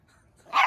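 A large dog barks once out on a walk, a single sharp bark arriving near the end after a quiet stretch, close and fairly loud.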